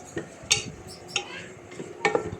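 Ground onions being sautéed in a pan for a camel meat curry, with a spoon scraping and clinking against the metal in a few sharp, irregular strokes close by.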